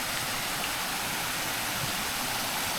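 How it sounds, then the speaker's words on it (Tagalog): Steady broadband rushing of a stream flowing close by in a river, a continuous hiss with low rumble and no distinct voices. "kuliglig na maririnig nyo at saka yung daloy ng tubig"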